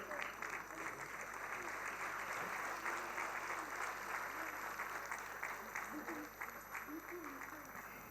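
A large audience at a medical school inauguration applauds steadily, a dense wash of clapping that holds at an even level throughout without pause.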